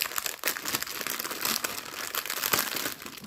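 Crinkly plastic packaging holding small wooden embroidery ornaments is pulled and worked open up close, with continuous crackling and rustling peaking in sharper crunches.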